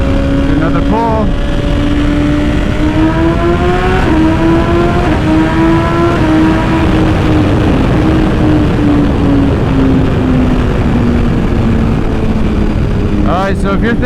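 Loud, close exhaust roar from a 2021 BMW S1000RR M fitted with a titanium Akrapovic system, rising sharply early on, then holding and slowly easing in pitch under heavy wind noise, with a short rev burst near the end.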